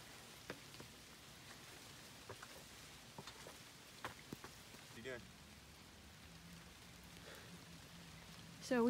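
Rain falling on the rocky Appalachian Trail, a soft continuous patter with scattered louder drops and rustles nearby, while a voice speaks briefly near the end.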